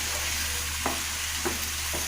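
Grated carrot and sugar for carrot laddu fry in a pan, with a steady close sizzle and three soft scraping stirs of the spoon spaced about half a second apart, and no talking.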